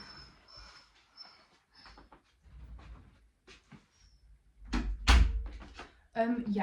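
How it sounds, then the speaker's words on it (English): Someone speaks, then a bedroom door is pushed shut with a heavy thud and a brief rattle of the latch, followed by more talking nearby. "I'm gonna close my door."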